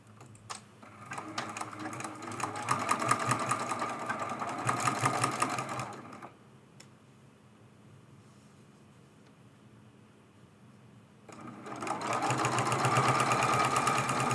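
Domestic sewing machine stitching a quilt binding corner on a fat-quarter table runner: a steady motor whir for about five seconds, a pause with faint handling noises, then the machine runs again near the end.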